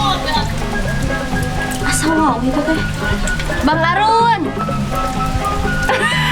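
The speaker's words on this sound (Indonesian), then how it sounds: "Tunggu hujan dah." Rain falls steadily on a surface during a outdoor film shoot in a Sundanese village, a continuous patter running under music and people talking throughout.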